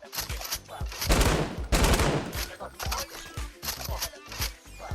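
Rapid automatic bursts from an LMG light machine gun in the Fortnite video game, loud and dense, with a longer sustained stretch in the middle and choppier fire around it, mixed with game effects and what may be talk.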